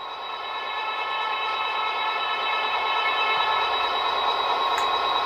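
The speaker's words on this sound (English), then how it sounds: "Dynamic brakes." Dynamic brakes on an Athearn RTR SD40 model diesel locomotive with Economi sound and DCC, a steady droning whine and fan rush over the engine, close and continuous throughout.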